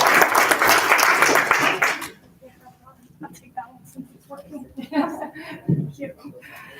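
Audience applause for local election candidates at a luncheon, a dense burst of clapping lasting about two seconds before cutting off, followed by quieter room murmur and voices talking.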